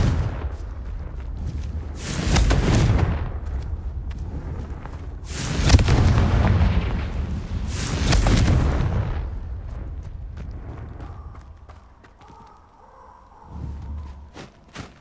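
Repeated fiery spell blasts from Hogwarts Legacy gameplay: three big booming explosions a couple of seconds apart, loud and close, followed by quieter rumbling and a softer final burst.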